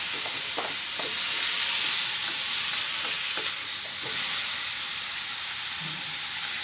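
Vegetables stir-frying in a hot pan for a vegetarian rice-noodle dish hiss and sizzle steadily up close, with a few soft scrapes and taps of the stirring utensil.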